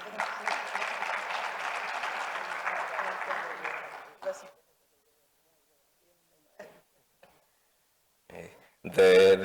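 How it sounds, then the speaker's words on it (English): Audience applause at a business forum at Global Expo Botswana welcoming a guest, dense clapping for about four seconds that then cuts off, followed by near silence broken by a few brief knocks and noises. "Kindly give her a round of applause and a welcome"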